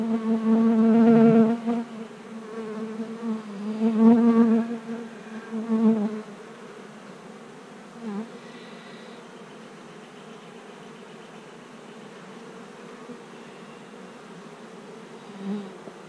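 Bees buzzing around a hive laden with nectar, a loud close drone for the first six seconds with wavering swells, then fading to a faint steady hum for the rest.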